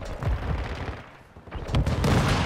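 Gunfire in Call of Duty: Modern Warfare from a weak SMG, loud bursts of shots with a brief lull in the middle before the shooting picks up again, dense and close.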